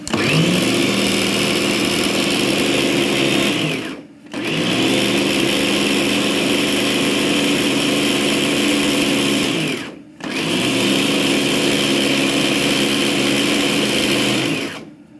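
A food chopper whirs steadily as it grinds garlic with salt, starch and oil, running loud and close in three long bursts separated by brief pauses.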